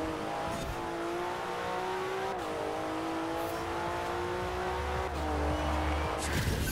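A Porsche race car engine screams at high speed in Forza Horizon 4, holding a steady high-pitched drone with brief dips and re-climbs as it shifts through gears, plus tire noise underneath, loud and continuous with no talking.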